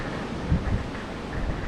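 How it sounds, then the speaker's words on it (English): Strong sustained wind from Hurricane Delta roars steadily across the microphone, a loud, dense rumbling buffet with a slightly stronger gust near the middle, alone without any voices. "Again, the winds have picked up."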